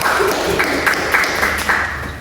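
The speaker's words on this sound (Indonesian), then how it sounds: "Tepuk tangan yang meriah untuk kedua belah tim" An audience at a student constitutional law debate claps for both teams, a brief patter of applause with several distinct hand-claps rising over a noisy room.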